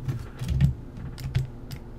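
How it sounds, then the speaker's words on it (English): Computer keyboard keys tapped in short, uneven bursts to steer a simulated LEGO MINDSTORMS robot, close and soft with no voices. "I can now begin driving and controlling my robot using the keyboard keys"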